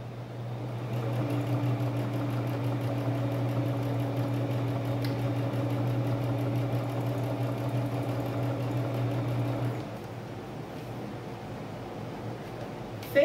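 A sewing machine runs stitches along the edge of a kitchen cloth or placemat, giving a steady, even mechanical hum close by for about ten seconds before it stops, leaving quieter room noise.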